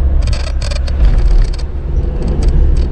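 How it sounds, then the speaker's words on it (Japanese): Strong gusts above 10 m/s batter a camper van crossing the Akashi Kaikyo Bridge at about 50 km/h, a loud continuous low rumble with repeated hissing bursts of wind noise and no talking. "あ、でも結構風を受けますね。"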